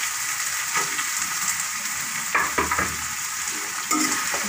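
Chopped onions fry in hot oil in a pan for a mixed vegetable curry, a steady close sizzle with a few louder bursts of stirring and spattering partway through, no voices.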